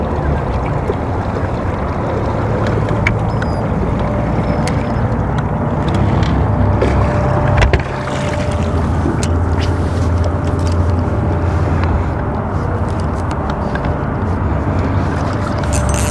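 Small fishing boat turning back over shallow water, a steady motor drone with water wash and rumble running continuously, with a brief surge near the middle.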